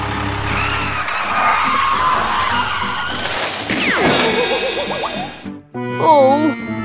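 A cartoon truck brakes hard, tires skidding and squealing over engine noise, followed by a falling whoosh and excited animated voices.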